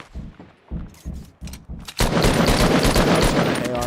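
Assault rifle fire in a building-and-shooting battle royale game: spaced single shots at first, then a sustained loud burst of rapid gunfire that fills the rest of the moment, close and dominant.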